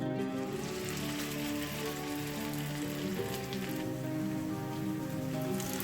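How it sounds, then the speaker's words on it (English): Small beef kabab patties frying in oil for a homemade bun kabab, giving a steady, dense sizzle that continues throughout under soft background music. "We'll be fry them until they are little golden brown."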